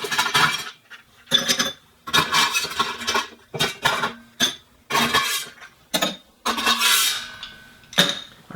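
Fresh ice clinks and rattles in a cocktail glass while a Singapore Sling is prepared, with a string of sharp bursts of clatter separated by short pauses, close and clear, and no voices.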